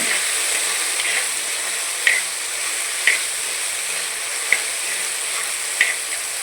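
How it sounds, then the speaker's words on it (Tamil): Tomatoes sauté in a pan, softened and curling, with a steady close hiss of frying broken by a few sharp utensil taps against the pan at irregular intervals. "தக்காளி வந்து பார்த்திங்கன்னா நல்லா சுருண்டு வதங்கி வந்திருக்கு"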